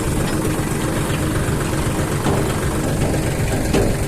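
A tractor engine idling nearby on a farm, a loud, steady low rumble with a constant vibrating drone and no pauses.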